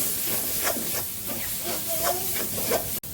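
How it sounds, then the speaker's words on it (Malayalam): Onions and masala cooking in a pan for kappa biriyani give a steady, close hiss of sizzling with faint scraping bits throughout, briefly cutting out near the end. "ഇനി നന്നായിട്ടൊന്ന് ഇളക്കുക"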